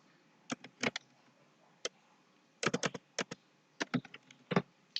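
Typing on a computer keyboard, close and crisp, comes as scattered clusters of quick clacking keystrokes with short pauses between bursts in a quiet room.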